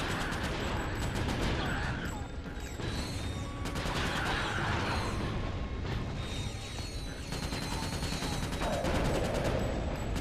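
Fusion rifle shots in the video game Ratchet Deadlocked, a powerful weapon, fire repeatedly over a dense, loud wall of game combat noise with metallic clanks and blasts throughout.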